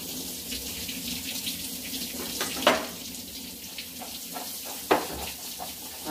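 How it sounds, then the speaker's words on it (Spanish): Cold tap water runs steadily into a sink as canned chickpeas are drained and rinsed, a continuous close hiss with a few brief splashes and clatters. "Escurrimos bien los garbanzos, los lavamos bien con agua fría, que suelte esa gelatina en el que viene conservado."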